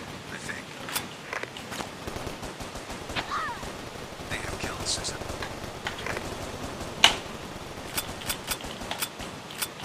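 Gunfire and gun reloading in a VR shooting game with unlimited ammo, heard as a steady run of sharp cracks and clicks over a busy game background while a person talks over it.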